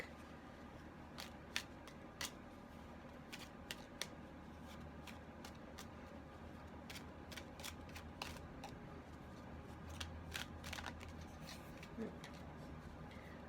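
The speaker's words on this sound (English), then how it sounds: "I messed up with the shuffle." A deck of oracle cards is shuffled in a quiet room, giving a run of crisp, irregular riffles and snaps, soft and close against a low steady background hum.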